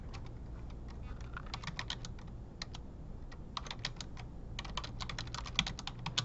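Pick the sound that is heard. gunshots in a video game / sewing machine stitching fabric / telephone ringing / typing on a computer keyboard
typing on a computer keyboard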